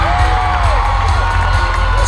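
Loud crowd cheering and whooping fills a cheerleading competition arena after a team announcement, a dense sustained roar with high shouts rising over it.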